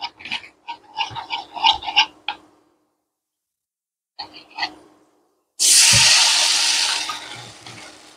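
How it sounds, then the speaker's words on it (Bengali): Cornflour mixed with water is poured into a hot pan of Szechuan garlic chicken, setting off a sudden loud sizzling hiss that slowly fades over about two seconds, after a stretch of talking. "এর মধ্যে কর্নফ্লাওয়ারটা যেগুলো ছিল আর একটু জল দিয়ে এটা দিয়ে ঢেলে দেবো।"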